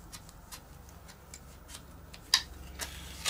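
Curved scissors cutting plastic moulding for a Warbirds Replicas FW190 model build, heard as faint, repeated ticking snips with a couple of sharper, louder cuts near the end and no talking.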